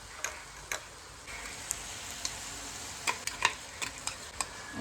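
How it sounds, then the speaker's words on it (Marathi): A spoon stirs masala paste in a pan for paneer masala, giving soft scraping clicks and a steady low sizzle, with sharper taps clustered near the end and no talk. "हलवून घे सगळं."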